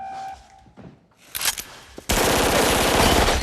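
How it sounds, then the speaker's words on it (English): Rapid automatic gunfire in the lobby shootout of The Matrix, loud and continuous bursts with sharp earlier shots, no talking heard. "Neo and Trinity show up in their most iconic outfits for easily the series' most unforgettable shootout"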